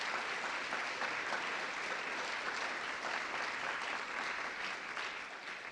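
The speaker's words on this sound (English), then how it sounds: "Please give Aisha and Ali a round of applause." A gathering's audience gives hosts Aisha and Ali a round of applause, dense, steady clapping sustained throughout and fading slightly at the very end, with no talk over it.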